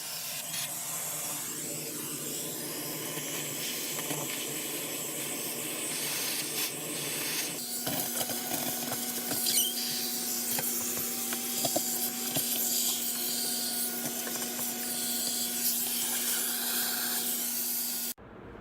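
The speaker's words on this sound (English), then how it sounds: "I'm just gonna get the shop vac out and just vacuum that up." A steady, loud shop vacuum roar with a whining motor tone and shifting suction hiss, cleaning a classic car's interior, running continuously for the whole stretch with no talking.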